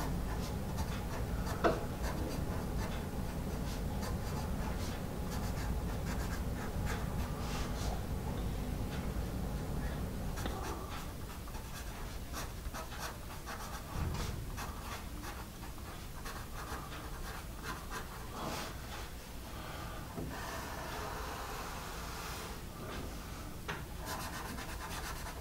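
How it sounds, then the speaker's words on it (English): An Anker Art number 2 pencil scratches and rubs steadily across paper, a close, continuous graphite scraping with small ticks and strokes throughout, no talking. "we'll get some paper and we'll try these Anker Art number 2 pencils"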